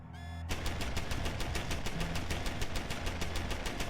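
Automated turret machine gun in Deus Ex: Human Revolution opens up after a brief tonal beep, unleashing a loud, steady stream of rapid evenly spaced shots that continues without pause.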